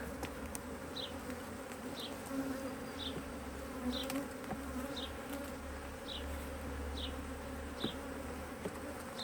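A steady hum of many honeybees buzzing together at a hive during an early spring inspection, continuous and moderately near, with faint regular ticking in the background.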